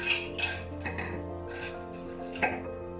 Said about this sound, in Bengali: এবার আমি ঢাকনা দিয়ে ঢেকে দিচ্ছি।